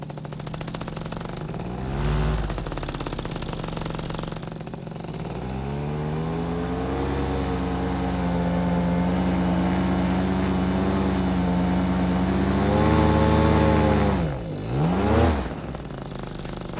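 Paramotor engine warming up and climbing toward full throttle, a loud, close buzzing drone that rises and holds steady, then dips sharply and surges back near the end.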